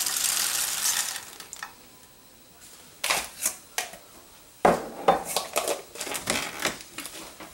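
Roasted unsalted peanuts poured into a bowl for a gluten-free snack mix, clustered bursts of hard rattling clicks in several pours, close and fairly crisp, no talk.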